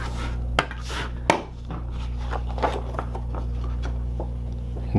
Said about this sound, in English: to burnish everything.